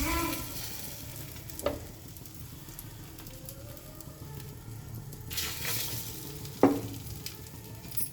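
Egg-dipped bread fries in hot oil on a tawa, a steady close sizzle and crackle with two sharper clinks of a utensil, no voices.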